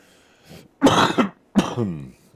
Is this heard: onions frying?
no